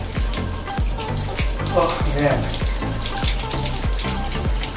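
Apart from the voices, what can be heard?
shower water running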